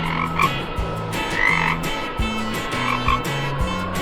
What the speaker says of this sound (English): A little frog is hopping happily on the green grass.